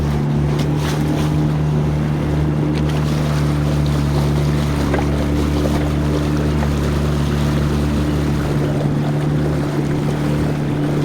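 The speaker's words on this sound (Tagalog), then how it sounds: "May wave na dito, ano? Kasi dumaan yung isang motor," A motorboat's wake rolls in as waves slapping against a boat on the water at Governor's Rapids, under a steady, close engine drone and wind, continuous for the whole stretch with no talk.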